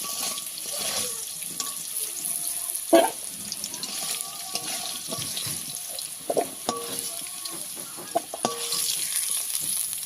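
Elephant foot yam pieces, fried until slightly soft, sizzle gently in a pan in village-style home cooking, with intermittent clattering stirs and a few louder knocks and splashes against a quiet, speech-free background.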